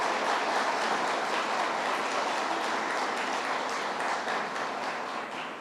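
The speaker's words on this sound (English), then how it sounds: "Let's give him a round of applause, Chairman Tom Prendergast." An audience at a state announcement event for new MTA buses applauds for Chairman Tom Prendergast, a sustained, even round of clapping that holds steady and eases slightly toward the end.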